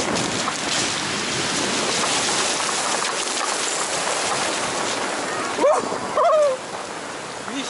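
Sea waves wash and splash onto a beach at Sochi, a steady loud roar of churning water filling the whole stretch, with a couple of brief vocal sounds cutting in near the end.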